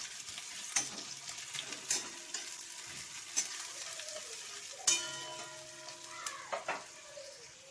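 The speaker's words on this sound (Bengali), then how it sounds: "পেঁয়াজটাকে একটু লাল লাল করে ভেজে নেব" Gentle sizzling of onions frying in a pan, with occasional stirring clinks and scrapes; no talking.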